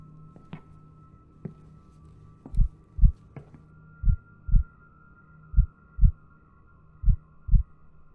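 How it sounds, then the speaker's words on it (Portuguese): A slow, steady heartbeat thumps in paired beats over a faint electronic hum, with a few light clicks at the start. "Eu posso ouvir o seu coração batendo."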